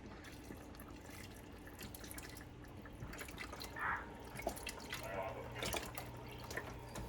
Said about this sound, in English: this is beef broth, 32-ounce container. We're going to put half this box in here